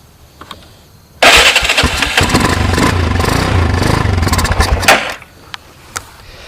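A Honda 300EX quad catches after a no-spark fault and roars into loud, close running with uneven throttle blips for several seconds, then cuts back to quiet with a few small knocks.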